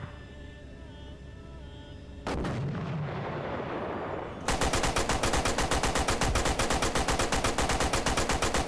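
Tank firing in the Arma 3 video game: a single heavy cannon blast booms and rolls away, then a long rapid burst of machine-gun fire follows, loud and close, with no speech.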